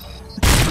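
Gunfire in the first-person shooter RoboCop: Rogue City: a quiet moment broken by a sudden heavy blast that erupts into sustained loud, dense firing lasting to the end.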